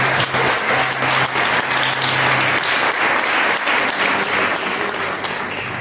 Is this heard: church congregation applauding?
yes